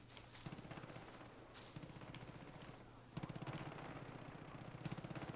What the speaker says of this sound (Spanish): Están dando tiros por aquí.